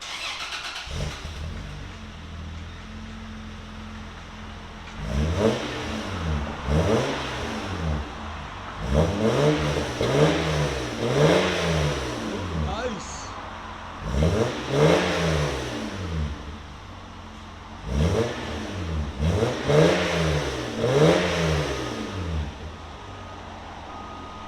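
A 1996 Toyota Land Cruiser with a 4.5L inline-six, high flow cats and a Borla Pro XS exhaust, starting up, then revving repeatedly in loud rising-and-falling bursts over a rumbling idle, with a brief spoken remark.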